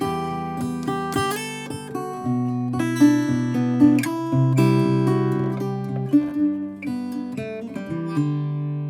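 A guitar plays a melodic lick from a guitar solo, plucked single notes and short chords, bright and close, with notes ringing into each other.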